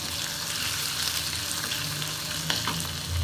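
Garlic paste frying with chicken in a pan, a dense close-up sizzle with light stirring scrapes throughout and a brief clink near the end.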